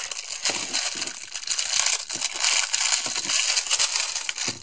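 Loud, continuous crinkling and crushing of plastic packaging being handled and torn open, close up, with no talking.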